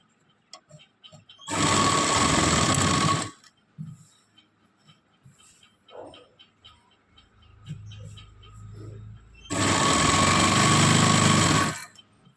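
A sewing machine stitches a six-panel petticoat in two loud, steady bursts of rapid whirring, each lasting about two seconds. Quiet handling and rustling of fabric fill the gap between the bursts.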